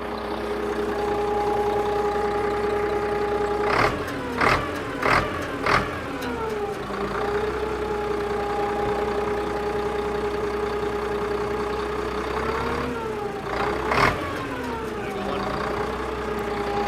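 A cabover truck's diesel engine idles steadily throughout, a low constant drone with a few brief revs and clicks partway through and again near the end, heard close up with no talking.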